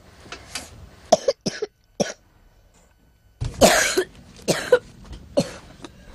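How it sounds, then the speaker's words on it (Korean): Repeated sharp coughs from a child, coming in uneven clusters with short pauses, close and fairly loud. "겨울이 되면 기침이 끊이지 않는 아이들."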